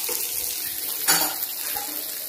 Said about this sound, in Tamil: இப்போ இந்த அளவுக்கு ப்ரௌன் ஆனதுக்கு அப்புறமா கட் பண்ணி எடுத்து வச்சிருக்கிற ஒரு பெரிய வெங்காயம் சேர்த்துக்கலாம்.